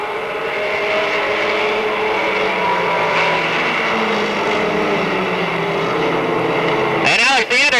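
Pro stock race cars roar down the backstretch at Monadnock Speedway in a 1990 Winston 100, a continuous loud engine drone with shifting pitch under steady commentary, a sharp burst of engine change near the end.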